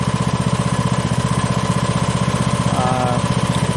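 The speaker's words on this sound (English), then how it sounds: "we have the tractor out" A tractor engine idles steadily nearby on a cold January day, a continuous rhythmic low chugging throbbing through the whole stretch with no one talking.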